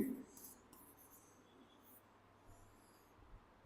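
A marker writes on a board during a lecture, making faint, short squeaky strokes in scattered bursts against a quiet room.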